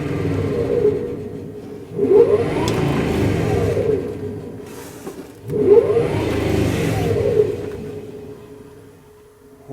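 A Jeep CJ7 converted to electric drive winds up on throttle twice, its motor whine rising in a sweeping pitch, easing off, then surging again, with a steady drivetrain hum underneath throughout.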